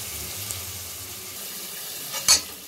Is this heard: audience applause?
no